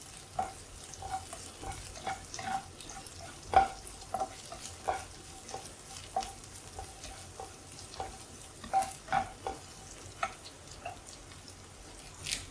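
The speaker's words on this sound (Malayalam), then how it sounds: "എണ്ണയിലേക്ക് ഒരു 2 വറ്റൽമുളകും ഒരു പച്ചമുളകും കൂടെ ചേർത്ത് കൊടുക്കാം. അതും കൂടെ ചേർത്ത് നന്നായിട്ടൊന്ന് വഴറ്റാം." Two dried red chillies and a green chilli sauté in oil for a bitter gourd curry, giving a soft, quiet sizzle. A spoon taps and scrapes the pan in a steady, repeated stirring rhythm.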